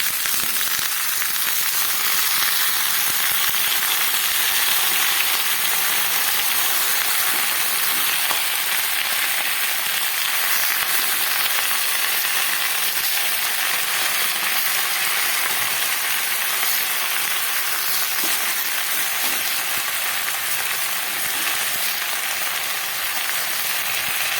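Steady, loud sizzling of Malabar spinach greens frying in a hot pan, a continuous crackling hiss with no talking throughout.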